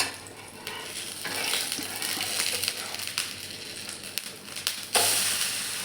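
A paratha hisses and sizzles on a hot pan after being flipped over, with a steady close frying noise, scattered scraping and stirring clicks, and a sharper burst of sizzle near the end.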